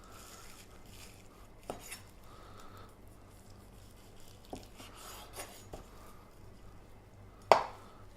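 Knife work on cooked shredded beef: faint scraping and soft cuts with scattered clinks of utensils, ending in one sharp, louder knock against a board or dish.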